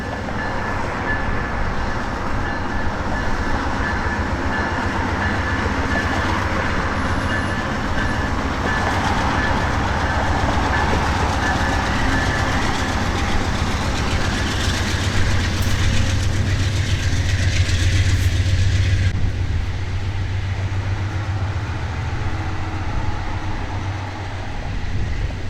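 A train departs with a sustained rumbling roar, steady clickety-clack of wheels and a low engine drone that builds and then eases toward the end.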